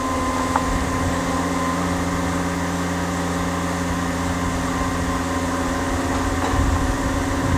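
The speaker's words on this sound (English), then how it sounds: "You hear the engine idle down, tracks are all the way out." The engine of a Hyrax 27.41 compact tracked lift idles steadily with a constant low hum and droning tones, a faint click near the start and a slight dip as it idles down lower.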